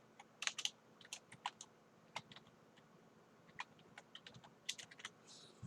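Close, crisp keystrokes on a computer keyboard come in irregular bursts of clicks with short pauses between them while someone works on a USA map project in TinkerCAD, no voices.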